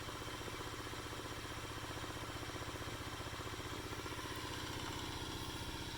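A motor winding down under its own inertia after the load drops, giving off a steady, fast, fairly faint mechanical hum and throb throughout with no talk.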